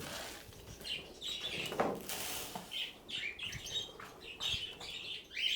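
Pet budgies, cockatiels and finches chirp and tweet in a busy, overlapping flurry, with bursts of wing flapping, a close and lively chorus of small birds agitated at feeding time.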